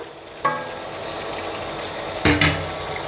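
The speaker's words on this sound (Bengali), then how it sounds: "শুটকি পেঁয়াজ রসুন একটু ভুনিয়ে নিব" Dried bamboo-leaf fish frying with onion and garlic in a pan, a steady soft sizzle with a couple of brief stirring scrapes and clinks, close and moderately loud, no talking.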